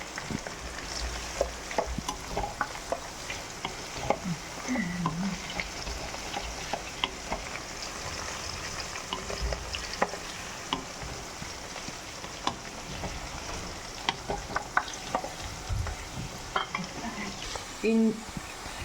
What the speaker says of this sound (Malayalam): ഇഞ്ചി, വെളുത്തുള്ളി, പച്ചമുളക്, കരിയാപ്പില ഇത് മൂത്ത് വരുമ്പോൾ